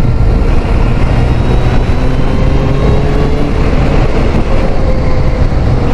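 A restored Suzuki GSX600F sports-tourer motorcycle cruises in sixth gear at about 3,500 rpm and 45 mph: a loud, steady engine drone mixed with heavy wind rush, with no change in pace throughout.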